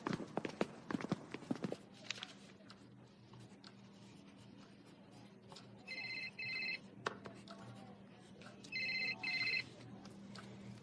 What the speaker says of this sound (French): C'est le téléphone de qui?